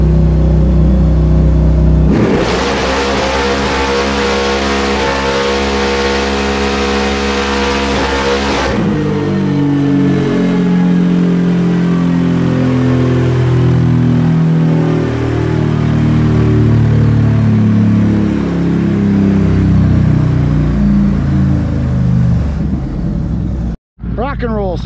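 A 2022 Can-Am Renegade X-MR 1000r ATV on a dyno, running a Monster fuel injection tune, its engine loud and close, idling, then revving hard in a sustained pull before dropping back to a burbling, uneven rumble with rising and falling revs.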